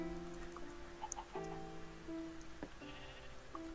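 A goat bleats in the Minecraft video game, with a few short, nasal calls over a steady layer of game ambience and other animal noises, all at moderate loudness.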